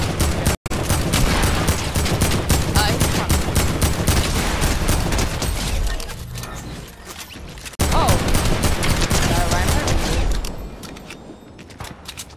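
Sustained rapid gunfire in a Zero Build Fortnite match, with dense overlapping shots from several weapons that rattle on for seconds, a short pause, then another heavy volley that tapers off.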